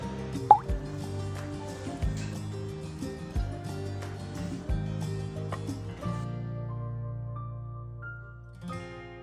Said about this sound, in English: Add soft-boiled eggs to the marinating sauce, soaking for overnight 12 to 20 hours until well salted.